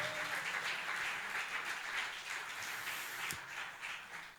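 A church congregation applauds loudly and continuously in a dense, even patter of many hands, with one sharp knock standing out near the end as the clapping begins to thin.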